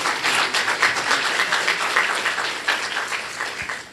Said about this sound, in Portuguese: Uma salva de palmas a esse momento tão especial.